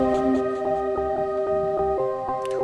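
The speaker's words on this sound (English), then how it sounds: "we are going back to the identical snare sample and making this roll" Repeated snare sample hits rolling at a steady quick pulse with a delay effect, layered over sustained tonal chords in a trap-style beat, fairly quiet and even throughout.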